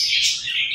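Pet parrot giving a single brief, bright chirping call up close, alone with no talk.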